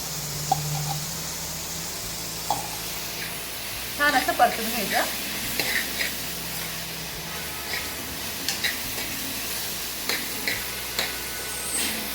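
Onion sautéing with ginger-garlic paste in a pan for Puneri misal, a steady soft sizzle running throughout with a few louder stirring scrapes and clinks near the middle and later.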